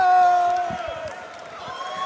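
Crowd noise at a New Line Cagefighting event swells under a commentator's voice, a broad roar of cheering that fades slightly over two seconds.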